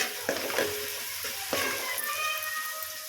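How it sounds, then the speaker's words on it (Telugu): Onions frying in a pan for a Telugu-style fish curry are stirred with a utensil, producing a soft steady sizzle with a couple of scraping strokes, close and fairly quiet with no talking. "ఉల్లిగడ్డలు ఒకసారి కలుపుకుందాము చూసారు కదా చక్కగా అయినాయి అన్నమాట"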